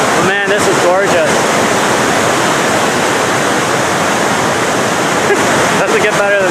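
Waterfall at Bassford Falls in the Adirondacks, New York, roaring loud and steady throughout, with brief voices near the start and end.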